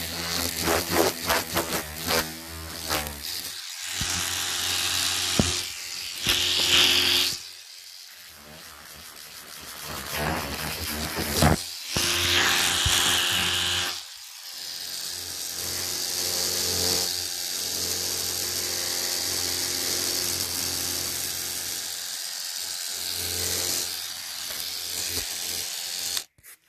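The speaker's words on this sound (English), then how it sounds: "so that's the electric toothbrush" An electric toothbrush buzzing close up in a quiet ASMR setting, with stretches of steady high whirring and rubbing broken by brief pauses and handling noises.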